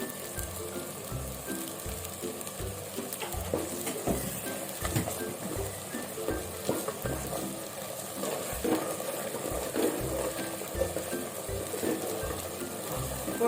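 Biryani masala stirred in a clay pot over heat, with steady scraping and stirring strokes over a continuous soft sizzle of frying, close and moderately loud, with no voices.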